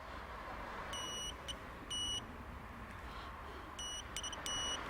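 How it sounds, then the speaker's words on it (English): A continuity tester beeps while probing Peugeot airbag driver module wiring, several short high electronic beeps in two clusters over a quiet workshop background. "It beeps."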